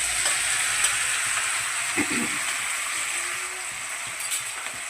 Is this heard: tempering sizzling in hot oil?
yes